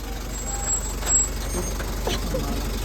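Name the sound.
vehicle arriving, engine and reversing beeps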